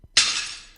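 Glass shatters in a single sharp crash with a bright burst of breaking fragments that rings briefly and decays over under a second, heard alone and close.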